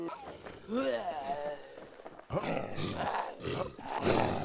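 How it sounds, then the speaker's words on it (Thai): A boss monster in the survival game Infestation lets out drawn-out, wavering roars, mixed with rustling movement and footstep-like thuds, while people talk over it. "เอ้ยมีบอสอยู่ได้ยินเสียงคำรามแล้ว"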